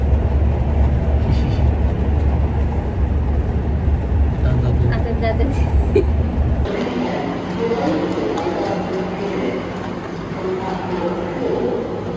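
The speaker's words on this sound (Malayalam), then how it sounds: "പിന്നെ നമ്മൾ ഫ്രാങ്ക്ഫർട്ടിലേക്കുള്ള ട്രെയിൻ കയറി" A steady low rumble of a moving train to Frankfurt Airport in Germany fills the clip, the tone shifting partway through as the cabin noise changes, with faint voices in the background.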